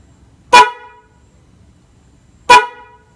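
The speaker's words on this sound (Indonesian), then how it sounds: "ini tombol klaksonnya saya pencet dan akan saya tekan." Car horn honking as the horn button is pressed, two short loud blasts about two seconds apart, close and clear against a quiet background.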